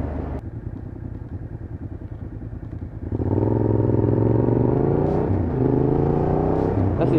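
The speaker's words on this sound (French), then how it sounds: "c'est la VFR de tout à l'heure, je crois" A Honda VFR motorcycle passes nearby, first a quieter clattering engine, then a sharp rise into a loud, sustained revving whine as it accelerates past, with a few subtle shifts in pitch.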